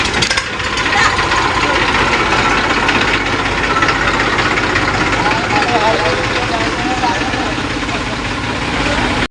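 Tractor engine running, a loud continuous rumbling drone close by that holds steady throughout, with voices talking underneath.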